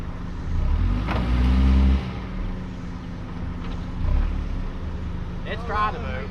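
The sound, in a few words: car engine revving while trying to move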